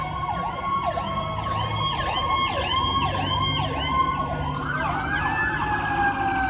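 A fire engine siren from a nearby fire station wails in repeated rising and falling sweeps, then shifts to a higher steady tone near the end, loud and continuous over a low background rumble.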